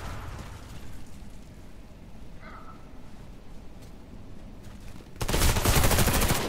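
Gunfire in the video game Warface during a team deathmatch on an air base map: a faint sustained rumble of distant shots, then a sudden loud, rapid burst of automatic fire that continues to the end.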